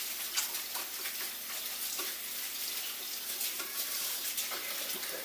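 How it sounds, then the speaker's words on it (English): Cold water from a kitchen tap runs steadily over boiled eggs in a pan, a continuous close hiss and splash throughout with no talking. "Got cold water running on those eggs."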